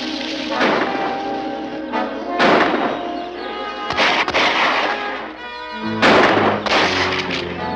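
Gunfire in a jungle scene from an old film serial, several loud sharp shots and bursts with echoing tails, spaced irregularly with quieter rumbling between them.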